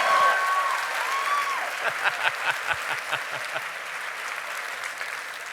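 An audience applauds a speaker at a talk, steady clapping throughout with a voice speaking over the start, and individual claps growing more distinct toward the end.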